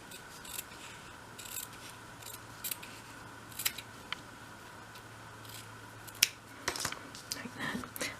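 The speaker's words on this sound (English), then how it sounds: "then trim off your excess fabric" Scissors snip through excess fabric on a Roman blind, a handful of crisp cuts and small handling rustles over a quiet room background, with no voices.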